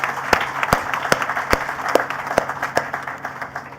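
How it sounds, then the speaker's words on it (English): Applause from an audience at a university induction ceremony honouring a prime minister, with sharp, uneven claps rising in steady bursts over a few seconds and fading slightly toward the end. "And I think you should applaud that."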